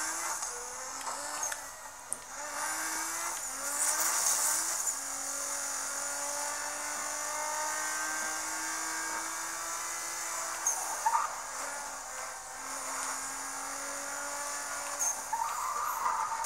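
Nissan GT-R racing in Need for Speed Most Wanted, with a steady engine drone rising and shifting through gears and a dense high hiss of tires and wind running throughout, loud and continuous with no talk.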